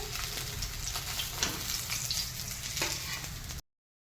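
Turmeric-coated pabda fish sizzles in hot oil in a kadai, a close, steady crackling fry that runs evenly for a few seconds, then stops abruptly.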